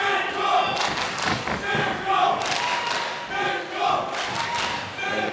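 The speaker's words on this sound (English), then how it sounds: "Crowd here at the Ballerup Super Arena still making plenty of noise for the sharpshooter Nicolas Dalby." Rhythmic chanting and roaring from a fight crowd at the Ballerup Super Arena during a Cage Warriors MMA bout, rising and falling in waves with thuds mixed in.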